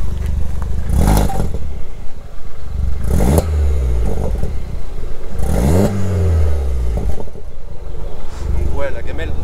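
A stage 3 tuned car of nearly 300 hp, on methanol with a full 63.5 mm tube exhaust and only a small rear silencer, revs repeatedly in sharp loud bursts over a constant rumble, close by, as people talk.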